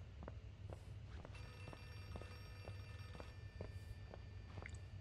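In the video game Outlast, a telephone bell rings in repeated short, regular trills, faint and somewhat distant, with soft footsteps in between and no talking.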